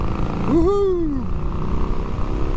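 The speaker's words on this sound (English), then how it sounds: "this Porsche designed Revolution motor really rips." A Harley-Davidson motorcycle with a Porsche-designed Revolution engine runs with a steady low rumble while riding, and a brief rising-falling whooping voice rises above it early on.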